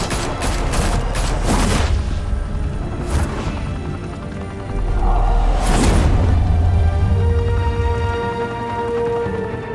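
Gunfire erupts in a Batman video game shootout set in Gotham: a burst of rapid shots with booming impacts up front, a pause, then another heavy volley with rumbling low-end, loud and close throughout.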